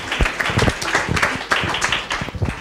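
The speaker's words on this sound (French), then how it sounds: "on l'applaudit bien fort pendant que Daniel s'installe sur ce tabouret" Studio audience at a talk show about blogs clapping as a guest takes a stool, a fairly close burst of irregular clapping with a few louder hand strikes standing out over the short stretch.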